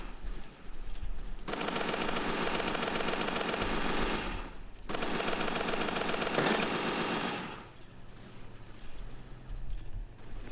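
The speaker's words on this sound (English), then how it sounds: "I was shooting at him." Sustained automatic gunfire from a shooter in a Roblox zombie game, two long rattling bursts separated by a brief pause, fairly loud and continuous.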